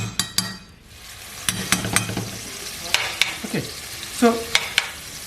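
Onion frying in a pan for an Ottoman-style meat dish, close sizzling broken by scraping spoon strokes and light clinks against the pan, with a brief spoken word at the start.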